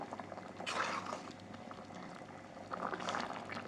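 Thick dried-prawn curry bubbling in a pan nearby, soft irregular blips and plops over a low simmer, with two louder bursts of bubbling.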